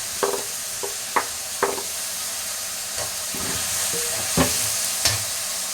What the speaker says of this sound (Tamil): தக்காளி போடுறோம்